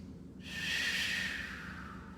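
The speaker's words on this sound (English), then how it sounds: "Take 2 deep breaths." One slow, deep breath drawn in and released during a power yoga flow, close and steady, alone without talk.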